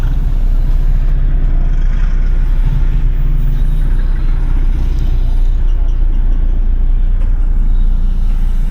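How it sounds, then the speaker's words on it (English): Heavy road traffic rumbles through Angeles, Pampanga, near a bridge with road works, a loud continuous low engine drone of cars, trucks and buses that never lets up, with no talking. "Angeles everywhere traffic, heavy traffic."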